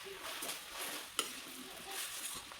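Tomatoes and onions fry in a pan with a steady soft sizzle and occasional stirring scrapes, plus one sharp tap of a utensil partway through, heard up close with no talking.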